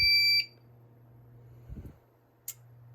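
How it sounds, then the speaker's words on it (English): Radionics D7412G fire alarm panel sounding a loud, shrill tonal alarm that cuts off abruptly after under half a second, followed by quiet hum, a brief low rustle and a short high chirp. "We will reset the fire alarm panel."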